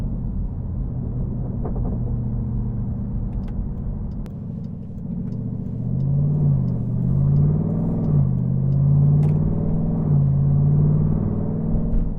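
Dodge 392 SRT V8 driving on a road, a deep steady rumble inside the cabin that swells into a louder throaty rev halfway through and stays strong to the end, with no talking.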